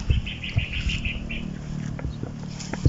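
A large bird gives a quick run of repeated bright calls, fairly close, followed by scattered faint knocks and rustles.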